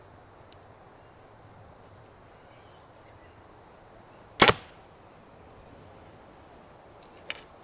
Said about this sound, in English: shoot another arrow or two through the paper